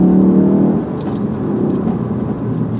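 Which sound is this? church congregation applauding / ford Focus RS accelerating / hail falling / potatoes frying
ford Focus RS accelerating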